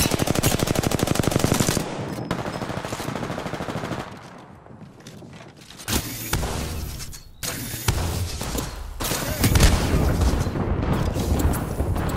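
An artillery barrage in the battle royale game Apex Legends opens with a loud, rapid stream of shots, then heavy booming impacts and blasts pound in several waves, near and dense.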